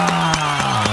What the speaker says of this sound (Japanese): 思わず拍手をしてしまいました